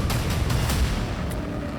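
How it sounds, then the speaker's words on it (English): Controlled building demolition blast, a loud sustained roar of explosive charges and collapsing structure with rumbling low end and a few sharp cracks throughout. "This is jaw-dropping explosion demolitions."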